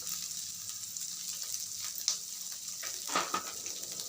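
Mashed boiled potatoes with salt cook in a pan for vada pav filling, a soft steady sizzle broken by a few scraping stirs and light clinks of a utensil against the pan.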